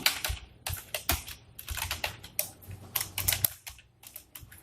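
Quick, uneven keystrokes on a computer keyboard as code is typed, a close, fairly quiet clatter of clicks in bursts, with no talking.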